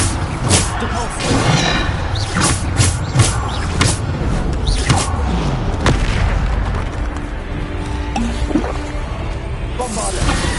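Depulso spell blasts in Hogwarts Legacy land among dense, continuous combat noise, with sharp bursts and rumbling booms repeating under voices throughout.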